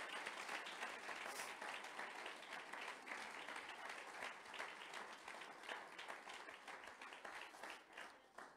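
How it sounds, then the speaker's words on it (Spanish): A church congregation gives a steady round of applause to the Lord Jesus during a sermon. The dense clapping continues evenly and is recorded very faintly. "¿Cuánto le da un fuerte aplauso al Señor Jesús?"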